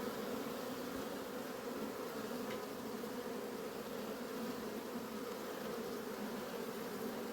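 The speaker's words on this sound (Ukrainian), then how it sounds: "на пасіці гул" A dense, steady hum of many honeybees buzzing together at an apiary at night, continuous and unbroken throughout, with no voices.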